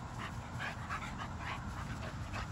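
An American Bully puppy pants rapidly and lets out small whimpers in a quick, rhythmic series, close and fairly soft, with no talking.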